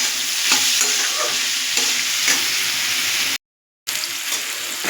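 Ash gourd frying with sugar, being stirred in a pan for a mung dal dish, a steady close sizzle with scraping stirring strokes, briefly cutting to silence before the frying resumes, no talking.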